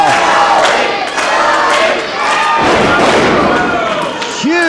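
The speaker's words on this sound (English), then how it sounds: "And you can hear the crowd now." At an independent pro wrestling show, a crowd in a hall shouts and cheers loudly and continuously, with whistles and yells rising and falling.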